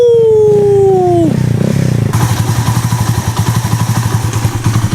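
A motorcycle in Vietnam cranks with a whining starter, catches, and settles into a loud, close, rapid idle with a rough pulsing rhythm.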